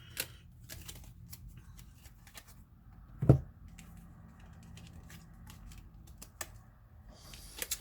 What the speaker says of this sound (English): I don't know why my shuffling is a little bit off